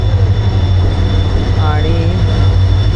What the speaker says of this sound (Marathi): तुतारी गाडी आली. तुतारी आज खूप लेट आहे 11 वाजले